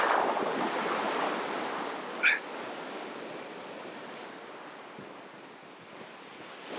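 Winter sea waves breaking and washing back on the shore at Dovercourt, a continuous broad rush of surf with wind noise, loudest at the start and easing slightly, with a brief sharp sound partway through.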